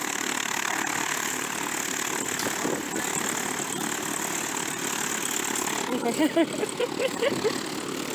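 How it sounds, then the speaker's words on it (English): A loud, steady small-aircraft engine of a Piper plane drones continuously at idle, filling the whole stretch, with faint voice-like fragments appearing toward the end. "I just want people to hear how loud the engine is."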